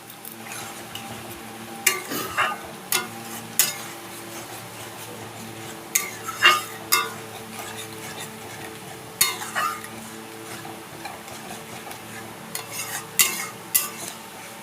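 A yogurt-based katla fish curry is stirred and sautéed in oil in a pan, with a soft background sizzle broken by intermittent scraping and clinking of a spatula against the cookware, each stroke brief and close.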